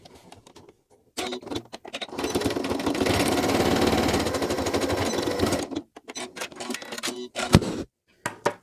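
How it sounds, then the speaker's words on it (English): A sewing machine edge stitches a hand sanitizer pouch lining in one loud, steady run of rapid stitching lasting a few seconds, framed by short clicks and handling sounds before and after. "I'm just going to stitch across that, edge stitch it 1/8 of an inch or 3 mil from the edge"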